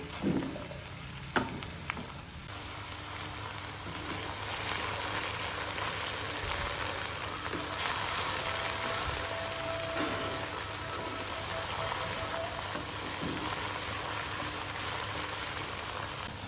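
Okra sizzling steadily as it fries in a pan, a continuous dense crackle with a few sharper pops near the start, alone without talk.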